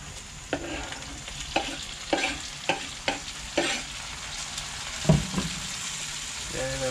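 Onion and tomato fry in a pot for a Guyanese-style curry, with a steady sizzle and a series of sharp spoon scrapes and knocks against the pot at irregular intervals.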